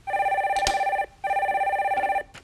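Two loud bursts of an electronic telephone ring as a phone-in call to a broadcast is put through, each a trilling tone about a second long, close and clear with a short gap between.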